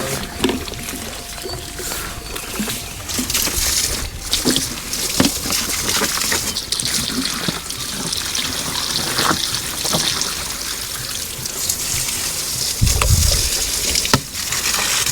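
Free spring water from the mountains flows at a refill spot in a hillside town in the Philippines, a steady trickle and splash with scattered knocks and bumps around it.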